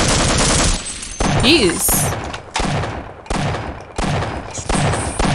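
Gunfire in the shooter game Half-Life: Opposing Force comes as repeated sharp bursts of shots. Someone speaks briefly over them.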